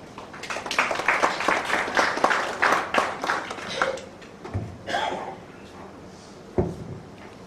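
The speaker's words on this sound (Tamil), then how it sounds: "சிலர் பேசினால் கைத்தட்டல்கள் கிடைக்கும், ஆனால் இவரோ கைத்தட்டல்களுக்கு இடையேதான் பேசுவார்" Audience applause at a Tamil speech event, a burst of clapping that swells over the first few seconds and then thins out into scattered claps.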